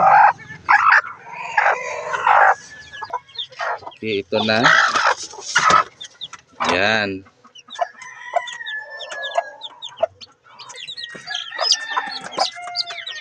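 Chickens, including a mother hen, cluck and call nearby, with higher peeps scattered through the latter half, while a person says a few short words.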